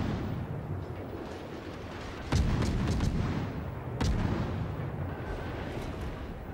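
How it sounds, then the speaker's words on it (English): Naval guns on a warship in World of Warships fire at an enemy destroyer, two heavy booming salvos a couple of seconds apart over a low rumbling battle background. "Firing on the Akazuki"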